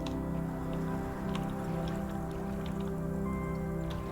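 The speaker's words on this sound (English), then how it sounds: "Is it like the waterfall effect that's like misaligned?" A continuous watery rush and patter from a waterfall effect in The Talos Principle: Road To Gehenna, with scattered drip-like ticks over a steady layered drone, alone and moderately loud.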